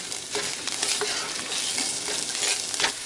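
Tomato paste is smashed and stirred in a hot pan, a continuous close sizzle broken by scraping strokes of a utensil against the pan, steady and moderately loud, with no voices.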